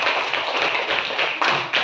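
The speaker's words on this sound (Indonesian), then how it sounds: "Ya, tepuk tangan." Hand clapping in a classroom during a computational-thinking coding lesson, a steady run of sharp claps over roughly two seconds with brief louder bursts near the end.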